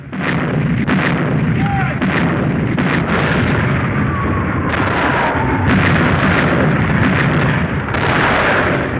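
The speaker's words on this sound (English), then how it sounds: "And it was just sending out shell after shell out of its turrets." Heavy turret guns fire shell after shell during 1944 fighting against German batteries. Loud booms and bursts come in quick succession over a constant rumbling roar.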